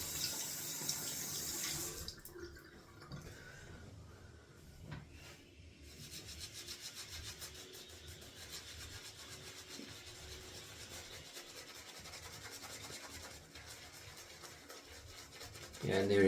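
A shaving brush swirls in a soft forest-scented shaving soap, working up lather with a steady wet, scrubbing rub that goes on continuously at close range, fairly quiet.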